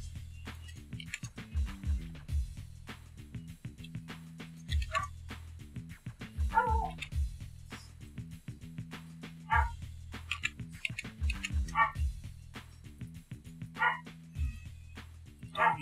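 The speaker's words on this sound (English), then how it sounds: "I don't know if you can hear him barking or not." A dog barks repeatedly in short bursts outdoors, fairly distant, under a person talking and a looping low-pitched game soundtrack.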